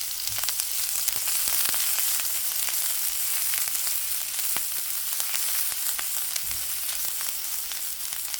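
Grated ginger frying in about a tablespoon of olive oil in a pan, a steady close crackling sizzle with scattered sharp pops and occasional stirring scrapes, no voices.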